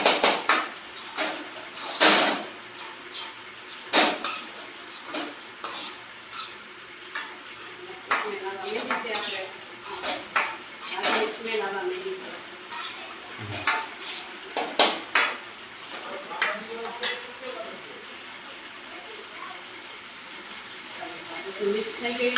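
Utensil scraping and clinking against a pan as Everest pav bhaji masala is stirred in, with irregular metallic taps and scrapes throughout, fairly close.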